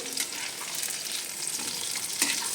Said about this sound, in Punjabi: ਚੰਗੀ ਤਰ੍ਹਾਂ ਹਿਲਾ ਦੇਵਾਂਗੇ ਸਾਰੀ ਅਰਬੀ ਨੂੰ